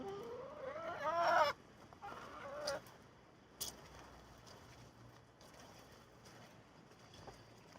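Chickens clucking in a level grassy garden, a short burst of close, lively clucks followed by a few scattered quieter calls and faint outdoor background.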